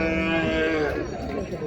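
At a weekly livestock market in Maharashtra, where red Kandhari bulls are being traded, a bovine gives one long, deep, sustained moo close by, with faint crowd murmur beneath.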